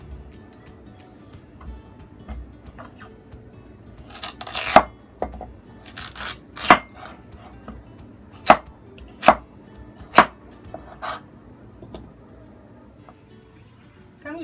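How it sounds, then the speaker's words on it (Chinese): A knife chops a peeled radish into strips on a board, giving several sharp, separate knocks that come at an uneven pace with quiet gaps between them. The sound is close and fairly loud over a low room hum. "将佢切到一条条啦"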